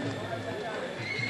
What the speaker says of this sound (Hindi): ये पूरा घोड़ा बाजार सोनपुर मेला का आप दृश्य देख रहे हैं